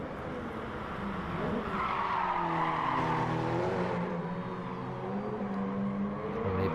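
Race car tyres squeal and skid in a racing video game at the Autopolis short circuit, a sustained rubbery screech with wavering pitch over a constant engine drone, loud and continuous with no voices.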